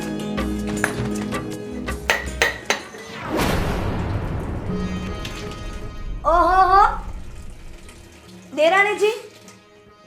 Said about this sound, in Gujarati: દેરાણીજી તમે વાસણ ધોઈ રહ્યા છો?